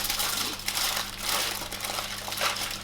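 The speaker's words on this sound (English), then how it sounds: "And then the tin foil nice and tight, okay?" Tin foil crinkles and crumples in steady bursts as it is wrapped tightly around a breakfast burrito, close and fairly quiet with no talk.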